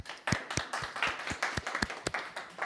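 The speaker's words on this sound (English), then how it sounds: "please give a warm applause to Maciej" Applause for a speaker at an in-person Elixir meetup: a small crowd claps unevenly for a few seconds, with individual claps standing out close by over a modest room ambience.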